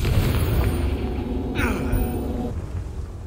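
Confringo blasting spell going off in Hogwarts Legacy, a booming burst midway with a crackling tail over continuous rumbling combat noise, with speech-like sounds mixed in.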